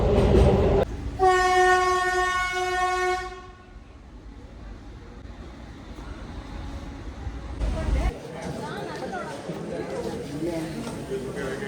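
A passing train sounds a loud, sustained horn for a few seconds before its heavy rumble and wheel clatter carry on steadily, with people talking nearby.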